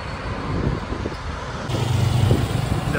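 Road traffic rumbling near the Nava India bus stop in Coimbatore, a steady wash of car and bus engines passing close by, swelling louder in the second half with no voices.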